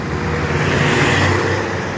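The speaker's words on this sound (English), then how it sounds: "I'm currently pacing through traffic trying to get across the damn street" Steady city street traffic in a big city, a dense, continuous roar of cars and other road vehicles close by with no break for the full length.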